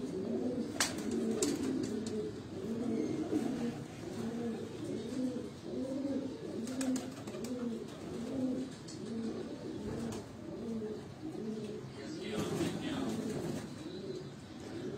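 Pigeons coo in a steady, rhythmic series of soft, throaty calls repeating close by, with faint clicks and background noise throughout.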